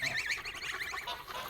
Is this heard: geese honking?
yes